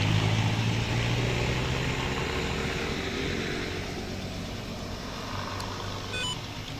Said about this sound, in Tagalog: Ingay pa rin. Dami pa rin sasakyan eh.